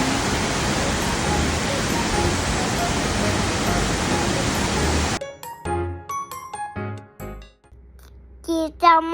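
Taiwanese waterfall rushing as steady, loud broadband roar for about five seconds, then cutting away to quieter scattered sounds with voices and brief tonal bits.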